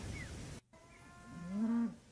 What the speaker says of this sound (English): Cows are saying hello to the moose.